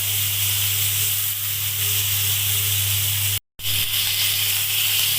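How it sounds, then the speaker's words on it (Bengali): Snakehead (shol) fish frying in hot oil in a village kitchen, a steady broad hiss and sizzle that holds close and even, cut by a brief gap of silence partway through. "মাছ দিয়ে দিচ্ছি শোল মাছ ভালো করে ভেজে নিতে হবে"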